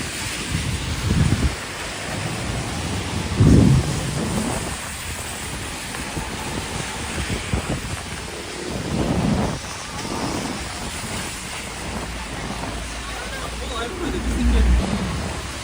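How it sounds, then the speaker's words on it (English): Rain falls during a walk along Toronto city streets in spring showers, a steady hiss of drops and wet pavement with gusty bursts against the microphone and occasional louder swells, continuous from start to end. "Feels like the rain is starting to lighten up a bit again."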